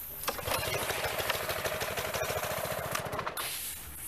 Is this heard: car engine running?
yes